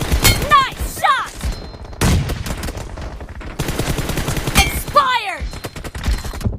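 Bursts of rapid gunfire crack and rattle in a team shooting game, loud and close, with several separate volleys and short pauses between them, punctuated by brief electronic chirps.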